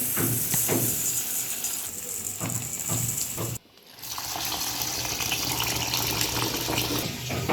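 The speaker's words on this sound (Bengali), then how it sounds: "চাউলটাকে এখানে আমি সুন্দর করে ধুয়ে ভিজিয়ে রাখলাম" Running water rushes steadily as rice is rinsed for biryani, a loud continuous splashing with light clinks, cut by a brief silent gap midway before the flow resumes.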